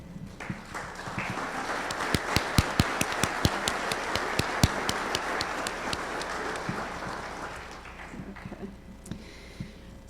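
A conference audience applauds the organizing committee members at an opening session in Tucson, a dense, steady clapping that runs about eight seconds and fades at the end, with a few sharp individual claps standing out.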